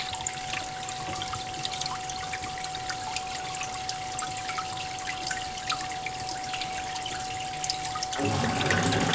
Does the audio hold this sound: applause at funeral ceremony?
no